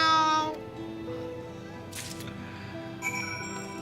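A cat meows from Final Fantasy XIV Dawntrail, a short bright mewing cry at the start followed by softer in-game effects and chimes, moderately loud against light game background.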